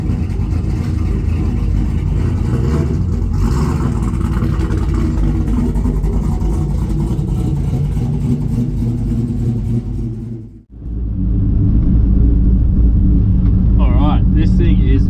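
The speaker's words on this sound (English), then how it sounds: "This thing is very, very loud." A boosted Ford XG ute with a loud exhaust drives along, its engine droning and rumbling steadily and close up, cutting out briefly near the end before resuming; someone talks over the noise.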